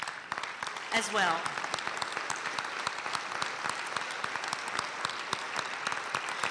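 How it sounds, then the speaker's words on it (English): An audience at a Lincoln Day political dinner in a high school gives a sustained round of applause, dense steady clapping filling the room, with a voice speaking briefly over it. "we all need to give them a round of applause"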